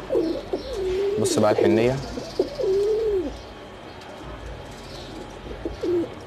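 Pigeons cooing on a home balcony, rising and falling throaty coos close to the microphone, with someone speaking Arabic over and between the calls and faint chirps in the background.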